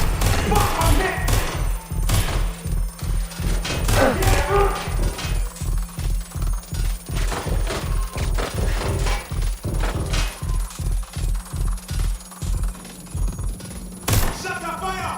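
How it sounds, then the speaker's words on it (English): Video game gunfire, rapid bursts of shots and heavy thuds in a loud, continuous exchange, rattling along with a rhythmic pulse and occasional booms. "Target is firing."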